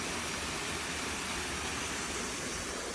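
Kham Hom waterfall in Phu Phan National Park, Sakon Nakhon, flowing down over tiers of rocks: a steady, broad rushing roar of water that stays constant throughout, with no voices.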